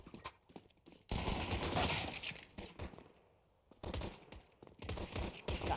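Rapid bursts of automatic and single-shot gunfire from a competitive tactical shooter match, loud and clustered in several volleys with short gaps between.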